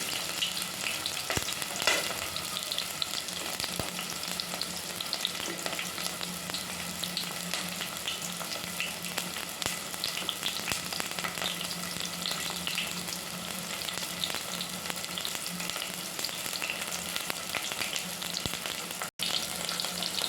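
Onions and green chilies fry in a pan with a steady, close sizzling hiss that stays even throughout, with a few faint stirring scrapes and a brief click near the end.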